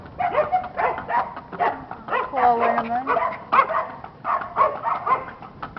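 A dog barks and whimpers in short yelps close by, mixed with people talking over it.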